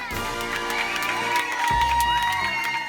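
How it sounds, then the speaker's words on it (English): Crowd cheering and applauding for passengers stepping off a plane, with whoops and shouts over a steady, dense wash of noise throughout. "you get a round of applause for getting off a plane"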